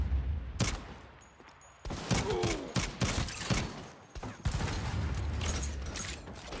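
Video game gunfire crackles in dense, repeated bursts of shots mixed with mechanical clanks, loud and close through most of the stretch with a brief lull in between.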